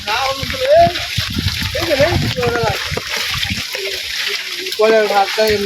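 Flood water splashing and sloshing into a house during a flood, heard as fairly loud, repeated splashes throughout, mixed with people talking and a voice.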